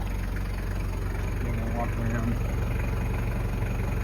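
A 1995 Toyota Land Cruiser 70 Series with a 1KZ-T 3.0L turbo diesel idles steadily, heard from outside the vehicle as an even low rumble under a voice speaking briefly.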